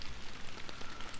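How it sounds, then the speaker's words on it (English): Rain falling in the fishing video game Fishing Planet at Lake Emerald: a soft, steady, fairly faint patter of drops on a surface, with no one talking. "Kinda sucks that it's raining, but it's whatever."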